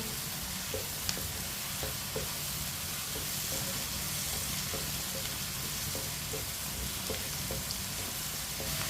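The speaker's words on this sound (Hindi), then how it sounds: "शिमला मिर्च को भी 1 मिनट के लिए पका लेंगे।" Capsicum cooking in a pan gives a steady, soft sizzle and frying hiss throughout, with occasional light taps of stirring, and no talking.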